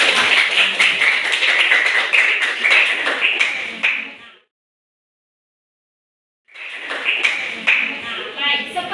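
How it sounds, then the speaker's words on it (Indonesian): Junior high students in a classroom clap together for a classmate, a dense burst of hand claps that cuts out for a couple of seconds, then resumes with chatter mixed in. "tepuk tangan dong untuk teman kalian"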